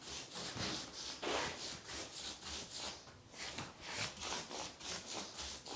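A tool scrapes thinset mortar off a heated bathroom floor mat in quick, rhythmic rasping strokes, close and fairly quiet, repeating steadily with brief pauses and no voices.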